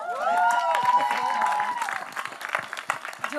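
Journalists clapping and cheering at a web show trailer launch, a sustained wash of applause with crowd noise and a voice over the top, tapering after about two seconds.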